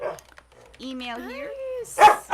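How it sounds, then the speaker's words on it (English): Dogs barking and yipping indoors during a live tabletop role-playing stream, a drawn-out howling whine followed by a sharp loud bark, with a person talking briefly at the start. "I'm so sorry about the dogs. They know my sign off."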